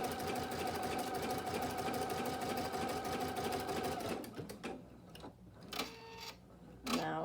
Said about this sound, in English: it's basting right along that edge.